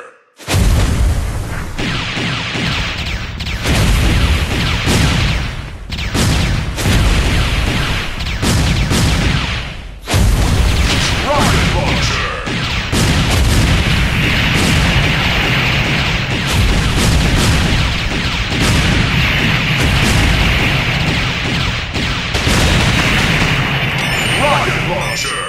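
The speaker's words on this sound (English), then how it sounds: "Rocket launcher!" Rocket launcher fire and explosions in the mobile shooter Metal Slug: Awakening, a near-continuous run of loud booms and crashing blasts layered with game music and effects, with brief gaps, under a voice.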